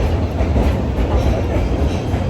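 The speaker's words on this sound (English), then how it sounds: "Our train has arrived. Let's get on and get ourselves a seat." A New York commuter train bound for Newark pulls in for boarding. It makes a loud, close, continuous rumble of wheels and carriages with a faint rhythmic clatter.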